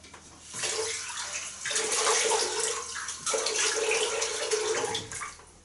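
Tap water running for a quick cold rinse after shaving, a close, splashing gush that comes in a few uneven surges as hands and face meet the stream.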